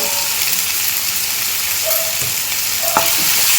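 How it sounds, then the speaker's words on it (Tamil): Tomatoes fry in oil in a pan for a dhaba-style chicken gravy, giving a close, steady sizzle with a few scraping stirs of a spoon on the pan. "தக்காளி நல்லா தொக்கு பதம் வர அளவுக்கு நல்லா வேக விடணும் ஃப்ரெண்ட்ஸ்."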